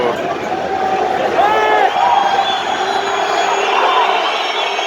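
Basketball crowd of Fenerbahçe supporters roaring inside an arena in Istanbul during a tight finish, a dense continuous wall of cheering and whistles with shouts rising and falling, loud and close throughout.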